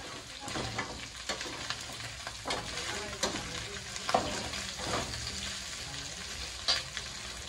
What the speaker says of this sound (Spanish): Pero miren, la carnita ya se está dorando, ya se le consumió toda la agüita.